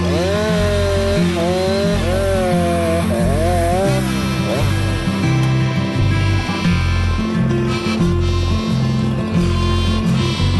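A Husqvarna chainsaw with a Triobrake cuts wood in a park, its engine revving up and down in wavering whines before settling into a steady, loud, buzzing cut that runs for about ten seconds.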